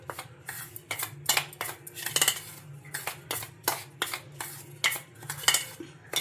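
Semolina and wheat flour being mixed in a bowl: quick, close scraping and clinking of a utensil against the bowl in irregular strokes, with no talking.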